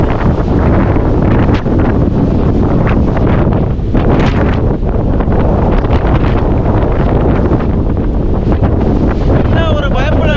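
Strong wind on a hilltop trail near the Karur–Dindigul district border buffets the microphone in loud, continuous roaring gusts, with a voice briefly audible near the end.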